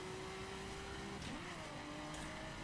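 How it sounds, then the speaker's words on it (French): A drag racing car in a video game drones steadily at a constant pitch, a sustained engine tone shifting partway through, all under a loud continuous wash of noise with no talking. "là on a une voiture de drague et la voiture de drague c'est une voiture qui va super vite"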